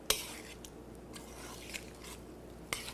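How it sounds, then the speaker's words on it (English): Food gets stirred in a pot in a kitchen, with a sharp utensil clank against the pot at the start and again near the end and soft scraping between, all fairly quiet and with no talk. "Let's get those last little bits and give it a good stir."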